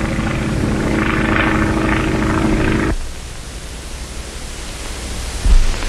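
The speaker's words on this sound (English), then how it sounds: "P-26A pursuit planes, the harnessed hornet of the air" A Boeing P-26A pursuit plane's engine drones loudly in flight, then cuts abruptly to a quieter hiss with a brief bump near the end.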